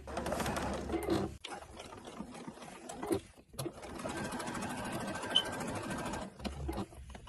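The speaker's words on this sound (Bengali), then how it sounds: "আমি পুরো গলাটি রাউন্ড করে সেলাই দিয়ে নিচ্ছি, কারণ এটি গোল গলা।" An electric sewing machine runs steadily while stitching around the round neckline of a girl's burqa, with a brief stop partway through. The whirring motor is close and fairly constant, with faint bird coos in the background.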